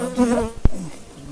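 Slightly agitated honey bees buzz close by, a steady insect hum with harmonic whine, interrupted by a single sharp tap or knock midway.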